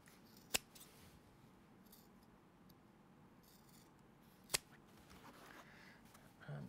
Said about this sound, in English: I'm going to trim the corners because obviously we've got quite a lot of layers of fabric there